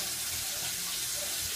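Tap water runs into a Super 8 film developing spool during the wash stage, a steady, close, hissing stream that fills the moment evenly without a break.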